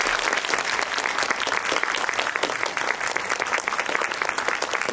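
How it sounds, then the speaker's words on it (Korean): An audience at a film screening event applauds an actor with dense, sustained clapping that stays even and loud for the full five seconds, with no voices breaking through. "이번 행사를 위해 준비해주신 황정민 배우님께 박수 좀 부탁드릴게요"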